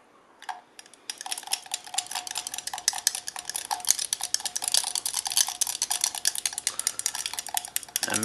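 Paint for a resin anime figure, heavy with red and mixed toward a skin tone, is stirred in a small container, giving rapid close ticking and scraping clicks that run steadily with no talking.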